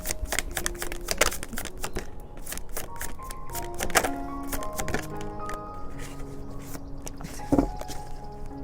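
Oracle cards being shuffled by hand, a dense run of rapid papery riffles and flicks with soft chime-like tones ringing faintly underneath.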